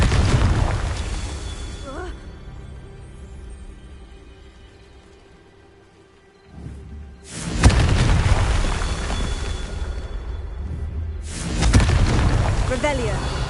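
Fiery spell blasts from the Confringo curse in a Hogwarts wizarding video game, with two loud booming bursts at separate moments, each followed by a rumbling decay, and a quieter lull between them.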